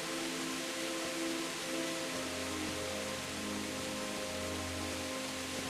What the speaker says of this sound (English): Rain pouring down.